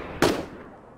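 A single sharp gunshot from a first-person shooter video game, loud and near, cracking once and then decaying over a second with no talking.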